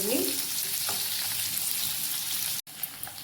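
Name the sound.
onions frying in a pan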